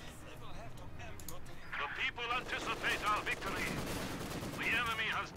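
Distant battlefield fire in Company of Heroes 2, with Maxim machine-gun bursts and mortar shots crackling through a match, mixed under a commentator's continuous talk.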